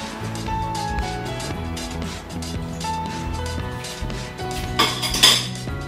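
A spoon stirs Tom Yum soup with pork belly in a metal pot, with repeated close clinks and scrapes of utensil against the pot and a louder clatter near the end, over a steady background tone.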